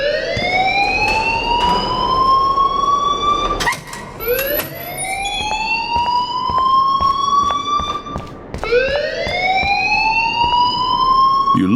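A school fire alarm in the video game Life Is Strange wails loudly in rising electronic sweeps that repeat roughly every four seconds, continuous and alone without talk.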